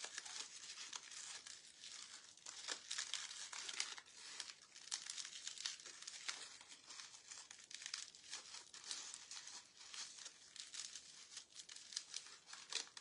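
Crepe paper is rolled by hand to form a paper rose, giving soft, close crinkling and rustling in continuous small bursts, quiet and without speech.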